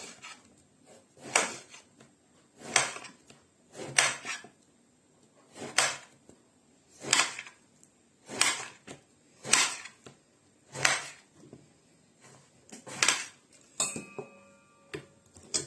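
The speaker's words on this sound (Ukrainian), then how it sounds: "І ось так ріжемо такими кусочками." An eggplant is sliced into pieces with a knife on a board, about a dozen crisp, evenly spaced chops repeating roughly every second and a half, close and clear against a quiet background.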